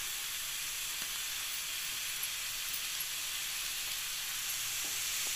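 Grated cabbage and beetroot fry in a pan, giving a continuous soft sizzle and hiss with faint stirring clicks, steady and moderately quiet throughout with no voices.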